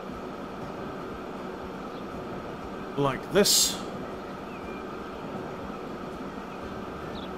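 A train runs in the video game Transport Fever 2, a steady low rumbling hum under someone talking, with a brief louder swell midway.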